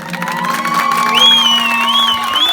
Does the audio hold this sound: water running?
no